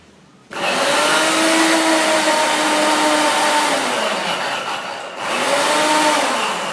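A food processor blends pesto with added oil in a loud, continuous motor roar that starts abruptly and holds steady. It dips briefly near the end before surging again, close and alone without talk.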